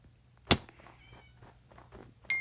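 A cat in the Minecraft video game gives a sharp, short meow that stands alone, then a second meow cuts in at the very end, with quieter game sounds and soft thumps in between.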